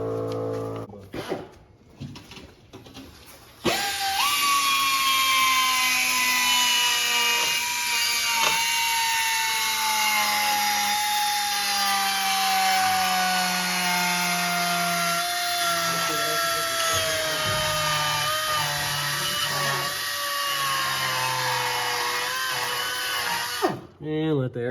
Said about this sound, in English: It's a little tiny air compressor.